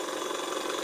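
A Davies Charlton hot air engine runs steadily at close range, giving a continuous, even mechanical whirr and hum with a slight rhythmic flutter and no voices over it.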